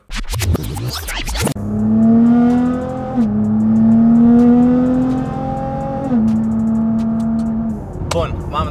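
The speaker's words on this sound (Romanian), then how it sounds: "suntem în mașina ei, un Nissan GTR de 750 de cai" A 750-horsepower Nissan GT-R revs hard from inside the cabin, the engine droning high and steady through gear changes after a scratchy burst at the start, loud and close.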